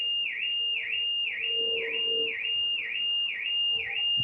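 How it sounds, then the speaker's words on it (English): An alarm goes off indoors with a steady, piercing electronic tone that dips and rises about twice per second, repeating evenly and fairly loud for several seconds with no talk over it. "Someone's alarm's going off."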